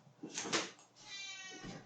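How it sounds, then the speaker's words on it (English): A cat meows to be let outside, a close drawn-out cry followed by a second rising meow, faint and alone in a quiet room. "Oh, the cat needs out."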